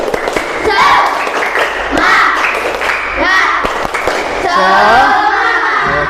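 A group performs the tepuk semangat clapping chant, sharp rhythmic claps of many hands punctuating voices chanting together, close and loud, with the pattern repeating across several short bursts.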